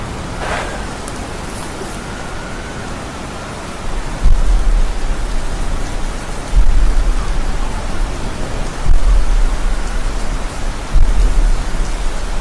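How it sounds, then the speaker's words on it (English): Heavy rain roars steadily in a storm within a horror video game, with several deep thunder rumbles rolling in at intervals, loud and close with no talk. "The storm has gotten worse."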